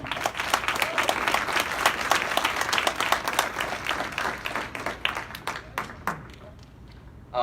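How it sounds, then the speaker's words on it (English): An audience applauds an honoree at a celebration of a 2021 class of 30 and under, a dense wash of many hands clapping at close range that gradually thins out toward the end. "Please, a round of applause for Sam"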